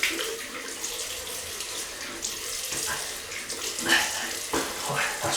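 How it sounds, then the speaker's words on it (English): Tap water runs steadily into a sink while a RazoRock ECO SE razor is rinsed under it, close and continuous with splashing variations as the razor moves through the stream. "So I'll just rinse this off."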